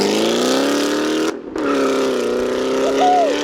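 A Ford 5.0 V8 idles and revs steadily at a car meet, a loud, close, continuous engine note that drops out briefly near the middle before the burble resumes with a slight rising rev toward the end.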